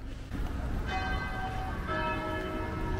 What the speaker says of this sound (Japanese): 鐘が鳴ってる。